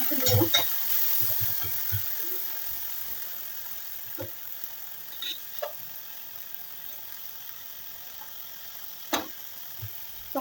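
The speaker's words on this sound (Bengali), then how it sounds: "এরপর এটা একটু ভাজা ভাজা হয়ে যাক পেঁয়াজগুলো আমার ভাজা ভাজা হয়ে গেছে" A soft, steady sizzle of onions frying in a pan, with occasional clinks and scrapes of stirring, close by and fairly quiet.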